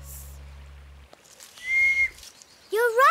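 A toy whistle blown in a children's animated story about best friends: a steady shrill tone held for about half a second, followed by bright warbling whistle notes at the end, heard over quiet background music.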